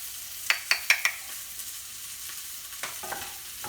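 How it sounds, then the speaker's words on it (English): Onions going into butter and oil in a cast iron pan where a chicken thigh is browning, a quick run of sharp clinks and stirring at the start, then a soft steady sizzle underneath. "I have a chicken thigh browning in the cast iron, have butter and oil, and I'm getting ready to add some onions."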